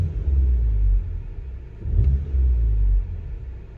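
Volkswagen GTI with an aftermarket exhaust, heard from inside the cabin as the engine gets two short revs: a deep, moderately loud rumble that swells and falls twice, each burst lasting about a second.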